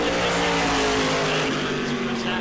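A NASCAR Whelen Modified Tour race car engine roars loudly and steadily at high revs during qualifying at New Smyrna, with a faint squeal of tires near the end.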